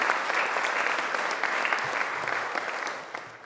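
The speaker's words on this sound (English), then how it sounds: "So a round of applause for the mayor and the city council." A crowd at a canoe journey homecoming ceremony applauds the mayor and city council, dense continuous clapping from many hands lasting a few seconds and tapering slightly at the end.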